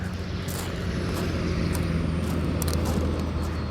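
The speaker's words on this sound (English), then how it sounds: "Excuse the road noise." Road traffic passing near a campsite parking lot at Walls of Jericho, Alabama, a steady broadband rumble of vehicles with faint rising whooshes, no talk.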